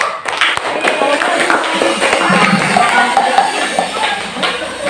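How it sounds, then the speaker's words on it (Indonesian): Classroom applause for a student group: a dense, steady wash of many hands clapping close by that fills the full five seconds and stays loud throughout. "kita beri aplaus dulu untuk kelompok 1"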